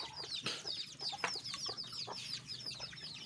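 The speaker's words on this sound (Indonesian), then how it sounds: "di sini guys masih ada ayam kita yang baru menetas guys" Newly hatched Bangkok chicks and chickens give a steady stream of high, faint peeping and clucking calls, many overlapping chirps close together against a quiet background.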